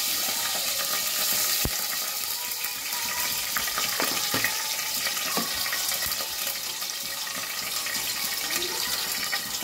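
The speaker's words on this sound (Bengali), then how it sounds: "তেলের পর আমি দেবো জিরা, তেজপাতা দেবো একটা, তেজপাতা দিলাম" Cumin seeds and a bay leaf sizzle in hot oil for a Bengali lauki chana dal, a continuous bright frying hiss broken by scattered pops and clicks of stirring, with no talking.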